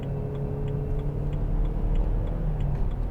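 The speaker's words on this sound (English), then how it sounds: "I'll just give it some gas here" 2008 BMW 320i M Sport 2.0 coupe engine pulling under acceleration, a steady low drone heard from inside the cabin, with faint regular ticking over it and no talking.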